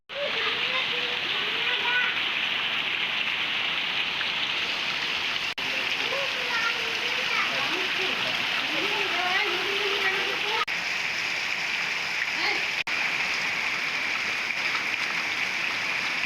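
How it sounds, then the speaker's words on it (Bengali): Heavy rain falls without a break as a dense, steady wash of hiss and splatter, close and loud throughout, with faint voices or sounds murmuring beneath it. "বৃষ্টির অবস্থা তো দেখতেই পারলেন।"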